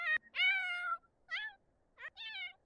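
Pet cat meowing in The Sims 4 video game: three or four loud, close, drawn-out meows in quick succession, alone without talk.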